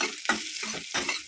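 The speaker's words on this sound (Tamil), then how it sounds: "இதை நல்லா வதக்கி எடுத்துக்கலாம்" Onions sauté in a pan for green gram kurma, with a brief burst of sizzling and a couple of quick scraping stirs, close and fairly loud.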